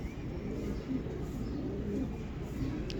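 Soft, repeated cooing from a fancy pigeon of the Kasuri, Jaldar or Ghamaggar kind, a low rhythmic murmur heard up close against a steady background hum.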